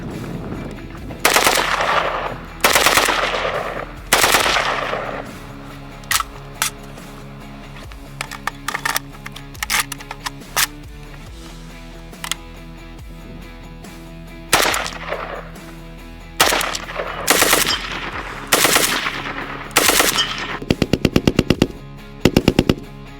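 Rapid automatic bursts from an AK rifle fitted with a three-position forced reset trigger, loud and close, several fast strings of shots separated by short pauses with sharp echoing cracks.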